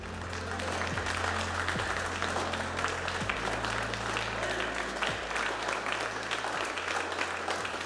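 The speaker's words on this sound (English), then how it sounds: "You heard it there from Mission Control and from the applause from our team." Mission control team applauding after a rocket launch's payload deployment is confirmed, steady moderate clapping throughout with a low background hum.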